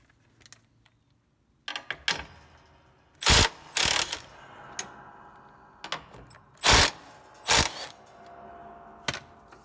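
A ratchet wrench loosens 15 mm idler nuts on a John Deere LA135 riding mower, giving close, sharp clicking bursts separated by pauses, with scattered lighter mechanical ticks around them.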